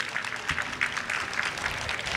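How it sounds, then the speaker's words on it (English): Audience applause for drummers at a heritage month celebration, a steady patter of many hands clapping at moderate distance, brief and even. "Let's give them another big round of applause."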